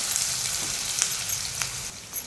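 Chopped onion and curry leaves fry in hot oil in a pan, giving a continuous close sizzle with a few light crackles and pops over a couple of seconds.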